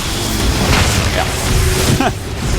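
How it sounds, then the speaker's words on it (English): Protoss Nexuses being destroyed in StarCraft 2 give deep booming explosions over a dense rumble of battle, with a bright burst near the end, all continuous and loud. "he's going to go and take out both the Nexuses, making Hero even more dead."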